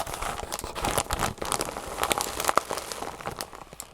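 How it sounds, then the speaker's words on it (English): Small rainbow-colored foam pieces are handled up close, giving quick, uneven bursts of soft crinkling and crunching with no talking. "I'm going to start off with these little rainbow foam pieces"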